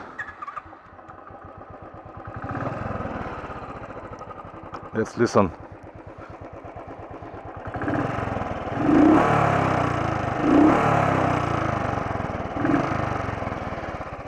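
A 2016 Royal Enfield Thunderbird 350 engine cranks and catches, then settles into a steady, throbbing idle with a few light revs; a voice speaks briefly at the start.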